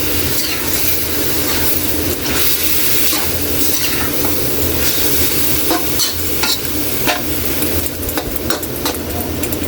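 A pot of Filipino papaitan soup stirred with a utensil, heard as loud, close scraping and sloshing over a continuous sizzling hiss, with quicker clatter toward the end and no voices.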